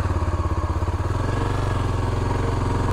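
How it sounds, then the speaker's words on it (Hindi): Motorcycle engine running while riding, picked up by a microphone mounted on the rider's helmet: a loud, close, steady throbbing drone that rises slightly in pitch and strength after the first second. "मैं बाइक चलाता हूँ।"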